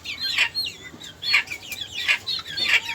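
Young backyard chickens in a small coop cluck and chirp in several short, bright bursts spaced about a second apart, close by, with no talking.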